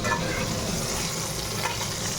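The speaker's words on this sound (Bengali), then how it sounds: "এই পটলটা ভাজা হবে আর পটলটা আলাদা করে নামাতে হবে" Pointed gourd fries in oil spiced with cumin, bay leaf, cardamom and cinnamon, giving a loud, steady, close sizzle with faint stirring throughout and no voices.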